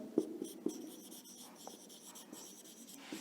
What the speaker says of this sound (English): So we can write here